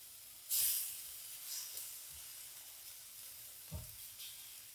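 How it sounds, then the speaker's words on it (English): Onions simmer and sizzle in a pan on the stove, a quiet steady frying hiss with a few soft crackles and light stirring taps, heard alone without speech. "I'm going to let the rest of this kind of simmer because these other onions, in my opinion, could use a little longer"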